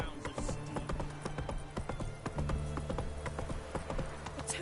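Roach, Geralt's horse in The Witcher 3 video game, gallops with rhythmic, close hoofbeats that clatter steadily throughout, mixed with other game sounds.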